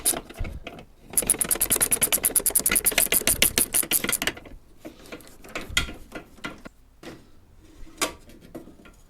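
A socket wrench ratchets rapidly for about three seconds while loosening a nut on the rear bumper of a 2013 Mini Clubman, followed by scattered clinks and handling knocks up close.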